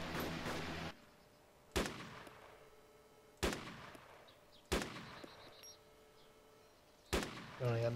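Four widely spaced single rifle shots in DayZ, aimed at zombies on a street, each a sharp crack with a long decaying echo, loud against a quiet background.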